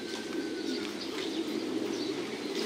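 Breeding pigeons at a large farm coo continuously, with many birds layered into a soft, steady murmur and faint chirps and wing flutters mixed in, heard with no talk.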